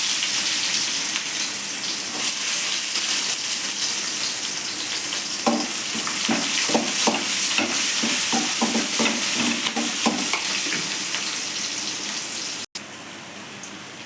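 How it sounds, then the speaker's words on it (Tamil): Chopped onions fry in hot oil for a Tamil roadside-style vada curry, a steady close sizzle with a run of scraping stirring strokes in the middle, no talk. "அதுக்கப்புறம் வெங்காயம் சேர்த்துக்கலாம்."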